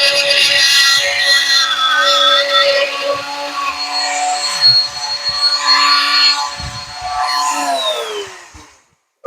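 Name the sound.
power tool cutting sheetrock ceiling corners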